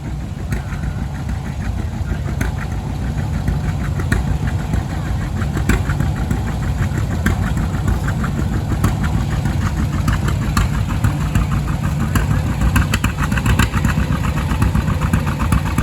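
A classic Allis-Chalmers WC tractor engine runs at a steady, loud idle with a fast, even chugging pulse that continues unbroken and close by at an outdoor tractor show.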